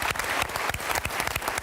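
An audience claps for a pupil who was picked for the Dijon gymnastics team and placed eighth at the Beijing Olympics. The applause is dense, loud and sustained for the whole moment.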